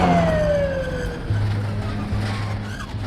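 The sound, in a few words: ambulance siren approaching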